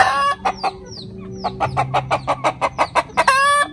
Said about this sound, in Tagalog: Magandang klase na darag. Meron siyang white earlobe.